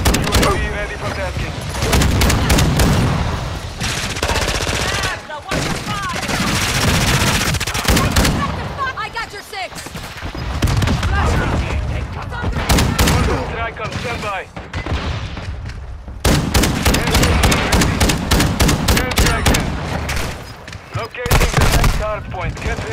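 Gunfire from Call of Duty: Modern Warfare II: loud, dense bursts of automatic and single shots come in rapid waves with brief gaps, mixed with in-game voices.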